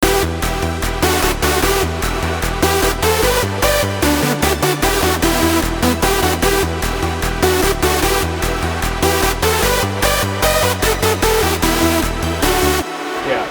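A self-made melody played back in FL Studio, a dense loud electronic arrangement with a steady pulsing bass and rhythmic chord stabs, driving continuously before a brief drop near the end.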